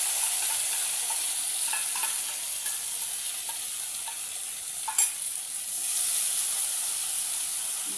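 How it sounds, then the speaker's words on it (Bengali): Spices fry in a pan for a thin egg curry. A soft, continuous hiss and sizzle runs the whole time, with a few light stirring taps and one brief louder clatter. "মশলাগুলোকে ভালো করে ফ্রাই করে নেব।"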